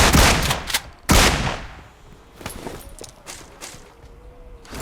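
Two loud close blasts from a DBS double-barrel shotgun in PUBG Mobile, the first near the start and the second about a second later, followed by lighter scattered shots and game noise.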